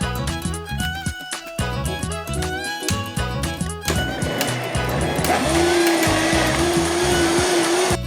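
A mixer grinder making watermelon juice whirs loudly with a harsh, rattling drone, kicking in partway through after clattering noise and continuing steadily to the end.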